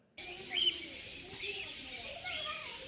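Many birds chirp and call together at Rajali bird park in Thanjavur, a steady mix of tweets and coos filling the air at moderate distance, with no talk over it.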